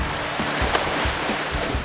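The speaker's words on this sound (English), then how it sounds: "And one by one, they drop into the water." Water splashes and surges as crews in survival suits drop one by one into the water, a broad wash of noise with a couple of brief splash bursts, moderately loud.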